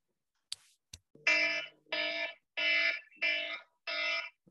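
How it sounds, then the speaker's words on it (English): Timer buzzer used to stop readers at a literary reading series, sounding five evenly spaced loud buzzes, each about half a second long, after a couple of brief clicks. "So there'll be a buzzer that sounds like this,"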